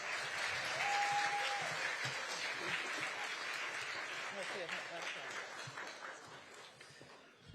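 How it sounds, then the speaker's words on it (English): Applause for student speaker Emma Laurie at a school dedication ceremony for Dorothy I. Height Elementary, a sustained crowd clapping with voices mixed in, gradually tapering toward the end. "Give a big hand to Emma Laurie"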